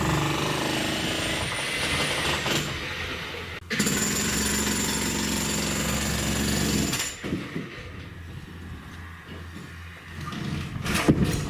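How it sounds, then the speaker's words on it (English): A Kango hammer breaks down walls during a cottage renovation, giving loud, sustained hammering bursts with a brief pause in the middle and quieter working noise near the end. "this is my Kango hammer. I'm going to start using it for taking down the walls here"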